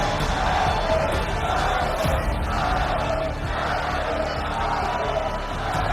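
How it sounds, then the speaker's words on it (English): An esports arena crowd at the Brawl Stars World Finals cheers loudly and continuously, a dense roar of many voices with whoops, steady and sustained throughout. "Despite being 2 sets down, the crowd are still cheering loud."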